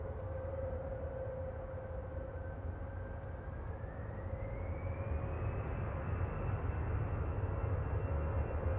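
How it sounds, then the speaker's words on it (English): An EasyJet Airbus A320 Classic rolls down the runway for takeoff at Manchester Airport in the evening, its engines giving a steady loud roar with a rising whine that climbs in pitch partway through, no talk. "EasyJet 2231 to Prague, GZOJ, A320 Classic on the roll."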